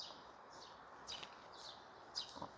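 Birds sing outside an apartment complex on a cool, windy morning after overnight rain, giving a few faint, distant chirps and short song phrases that repeat at irregular intervals over a soft outdoor hush.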